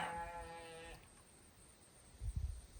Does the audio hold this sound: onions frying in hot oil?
no